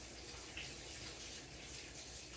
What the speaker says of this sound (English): I gotta wash this lemon.